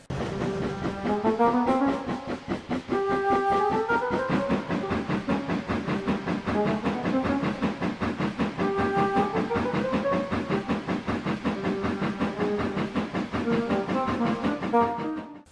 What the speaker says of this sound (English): judging from the sound, there must have been close to 30 trucks on that train